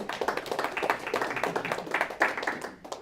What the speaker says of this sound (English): let's give a little applause to my brother here who got us going